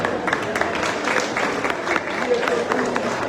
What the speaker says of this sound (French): allons applaudir au moment, s'il vous plaît.